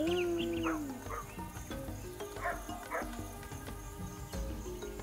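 African wild dogs give short yips, barks and whimpering calls at moderate distance in the wild African bush, with a soft musical bed running beneath them.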